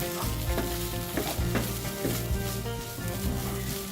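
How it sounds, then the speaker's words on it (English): Sardine filling fries in a pan until dry, a steady loud sizzle with regular stirring and scraping strokes throughout. "continue to fry until dry"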